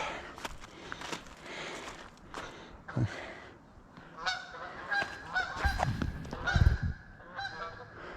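Geese honking repeatedly at a moderate distance, irregular calls overlapping one another, with faint rustling and footsteps in between.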